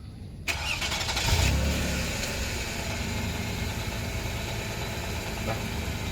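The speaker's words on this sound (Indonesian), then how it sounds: "sambil menunggu mobil panas" A car engine starts and then idles steadily while warming up, a close, even mid-pitched hum continuing for several seconds after the brief start with no talking over it.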